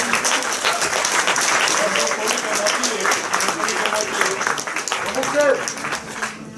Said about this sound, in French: Eh bien on applaudit.